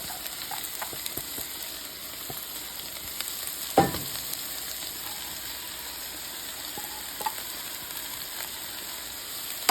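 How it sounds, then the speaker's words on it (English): Onion and celery frying in a pan, a soft continuous sizzle with scattered light ticks and one louder scrape of stirring near the middle, no talking. "And next I'm going to fry up the onion and the celery."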